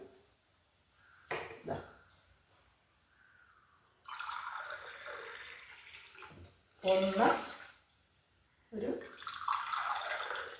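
Water is poured into a cooking pot in several separate splashing pours, close by and moderately loud, with short pauses and a voice talking between them.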